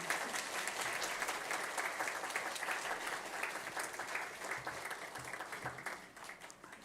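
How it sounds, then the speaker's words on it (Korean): A church congregation claps after an infant baptism during a Sunday service at a Korean Presbyterian church, a dense, even round of applause lasting several seconds before tapering off. "우리 박수하겠습니다."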